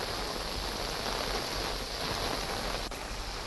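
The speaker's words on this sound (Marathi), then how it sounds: "रत्नागिरी जिल्ह्यात सध्या मुसळधार पाऊस बरसत आहे" Steady, dense monsoon rain pours down in Ratnagiri district, India, in a continuous hiss, heavy and even throughout, with no voices.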